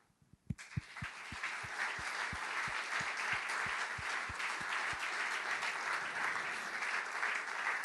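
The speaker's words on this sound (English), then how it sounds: "So I think we should give them a round of applause." Audience applause at an opening event starts with a few isolated claps, then builds into steady, full clapping with a rhythmic beat running through it, heard alone without talk.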